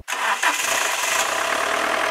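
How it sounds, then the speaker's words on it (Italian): A car engine cranks briefly and catches, then settles straight into a steady, fairly loud idle heard close up. "ora andiamo a mettere in moto"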